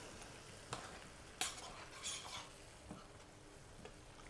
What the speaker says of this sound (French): On va rajouter un peu d'eau. Et on va laisser mijoter.